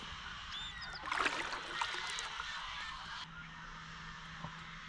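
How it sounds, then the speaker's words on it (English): Birds call and honk from reeds in Arizona, a dense burst of chattering calls rising then fading, with a constant hiss of background noise. "I'm not sure if you can hear that. Those are all the birds in these weeds."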